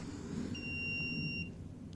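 A Wispeed electric scooter gives a steady high electronic beep for about a second as its charger is plugged in, sounding clearly over a low background hum.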